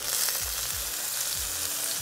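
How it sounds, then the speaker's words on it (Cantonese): Ginger, garlic, chili and shallots stir-fry in a hot wok, with a loud continuous sizzle and several rhythmic scraping strokes of the spatula; no one speaks. "First, we'll stir fry the aromatics starting with the ginger and garlic, then the chili and shallots"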